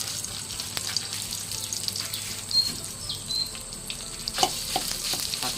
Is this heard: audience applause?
no